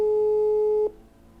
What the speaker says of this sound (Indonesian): Gue telepon Inanya dulu bentar ya